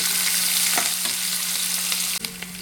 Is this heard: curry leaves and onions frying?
yes